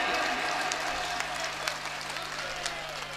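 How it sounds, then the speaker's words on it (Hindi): Audience applause at a vira rasa poetry recital in Bhilwara, Rajasthan: a steady, moderately loud wash of many hands clapping throughout, with a low hum beneath and no talking. "कमजोर तालियां एक बार दोनों हाथ खड़े करिए।"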